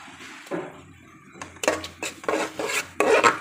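Nutmeg, mace and nut paste with yogurt being stirred in a cooking pot, a series of close, rasping scrapes of spoon against metal in irregular strokes, with no talk.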